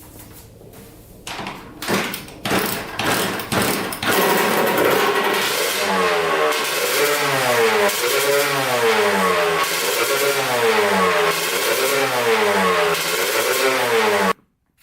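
A Kawasaki KX125 two-stroke dirt bike, carburetor needle set in its lowest clip position, kicked over in several sharp bursts, then caught and revved repeatedly in rising and falling waves, loud and close, cutting off abruptly at the end.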